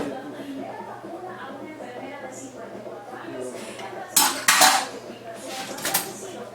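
Knife chopping pickled pork skins and tamales with salt on a cutting board gives a few sharp, close knocks and clatters in two short bursts, set against steady kitchen background noise.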